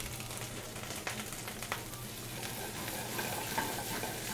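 Brussels sprouts sauté in a hot pan with a steady, fairly quiet sizzle and faint occasional stirring clicks throughout.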